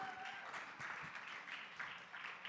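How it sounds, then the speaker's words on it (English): Audience applauding at a Hawaiian cultural event, a faint, dense wash of clapping that continues steadily without a break, heard from a distance. "how about a big round of applause?"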